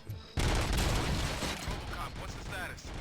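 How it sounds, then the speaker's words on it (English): Gunfire in the RoboCop: Rogue City video game bursts in as a loud, dense fusillade after a brief quiet start, rapid overlapping shots and booms continuing throughout. "Gunshots? What's going on?"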